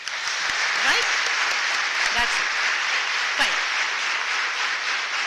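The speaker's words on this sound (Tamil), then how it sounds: "எல்லாருக்கும் ஒரு தடவை கைத்தட்டிடலாம்" An audience at a Tamil public talk claps together for everyone, a dense, even wash of applause that holds steady for several seconds with only faint voices underneath.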